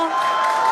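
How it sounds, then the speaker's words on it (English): A crowd cheers and roars in a steady, loud wash of excited voices at a SpaceX Starship rocket test launch, the Super Heavy booster flying. "you can hear the crowd is very excited about it."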